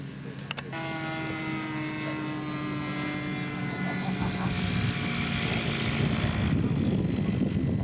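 A scale model Spitfire's engine runs steadily at an air show, its propeller drone loud and close, pitch easing slightly as it taxis, with a brief knock near the start and wind or crowd noise rising toward the end.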